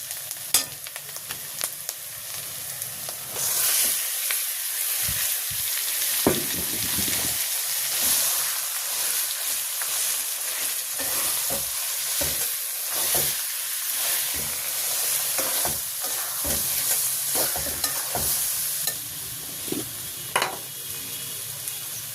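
Taro leaves tumble onto garlic already browned in a pan over a gas stove, setting off a loud, steady sizzle with scattered stirring clatter that runs through the whole stretch without any talking.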